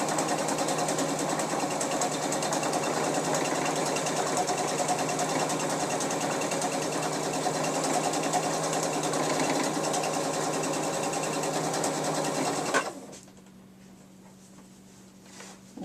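A sewing machine stitches thick sweater knit fabric in a fast, steady run for about thirteen seconds, then abruptly stops, leaving a faint low hum.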